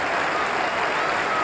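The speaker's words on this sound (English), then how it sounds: "he's going off to the tremendous clap that he so richly deserves" A cricket crowd at a 1992 World Cup match between England and New Zealand applauds a departing batsman, a dense, continuous wash of distant clapping through the whole brief moment.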